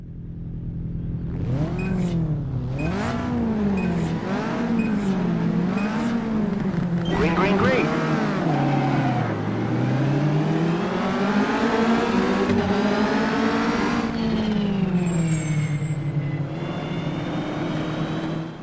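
Caterham race cars in Automobilista on the Carolina circuit, engines revving and shifting up and down through gears loudly and close, with several cars in the pack and talk over the engine noise.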